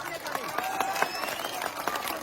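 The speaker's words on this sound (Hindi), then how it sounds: "तो एक बार बिहार के भविष्य के नाम पे जोर से ताली बजाइए" Crowd applause at a political rally in Araria, Bihar, a steady spread of clapping from many hands lasting a couple of seconds, with voices mixed in.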